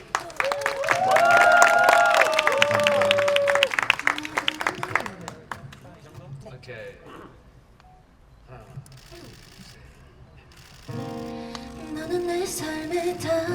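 Crowd at an outdoor busking performance at Suwon Traditional Culture Center claps loudly for several seconds, then fades as a singer's voice and music begin.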